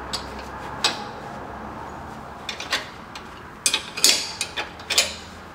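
Wrench ratcheting on a control arm bolt of a 2016 Camaro SS, a series of sharp metallic clicks and ticks, sparse at first then bunching into quick bursts near the end, close and fairly clear over a low background hum.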